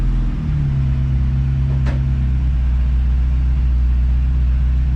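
A freshly built Mazdaspeed6 engine idles in a smoky garage just after its first start, a loud, steady low rumble close by, with a brief rev blip early on before it settles into an even drone.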